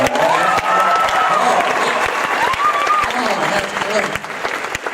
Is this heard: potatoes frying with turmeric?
no